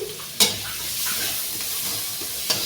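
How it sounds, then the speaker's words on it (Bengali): Chopped onion and garlic fry in butter for a sauce, a steady close sizzle with two sharp clinks of a spoon against the pan. "এটাকে একটু আমি ব্রাউন করে ভেজে নেব"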